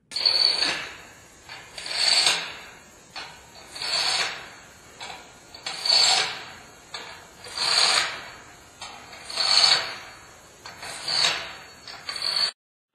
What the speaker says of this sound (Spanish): agarrando la herramienta con ambas manos, rápidamente haga girar las tuercas hasta que se ajuste contra la brida